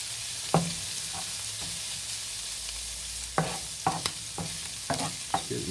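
A spoon stirs and scrapes through a stuffed red potato mixture with cheddar cheese in a pan, giving scattered knocks and soft scrapes over a low background hiss, with no talking.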